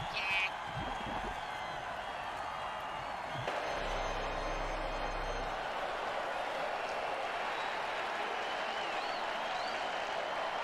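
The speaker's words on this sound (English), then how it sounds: "And the crowd goes wild." A video game football crowd roars and applauds after a touchdown, a steady loud wash of cheering filling the whole stretch with a low rumble partway through.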